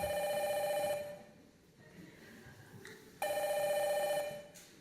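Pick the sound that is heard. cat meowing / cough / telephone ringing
telephone ringing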